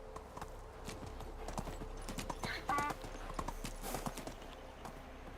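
Horse hooves clip-clop at a steady trot in the medieval village game Medieval Dynasty, a crisp rhythmic stream of clops with a brief whinny midway.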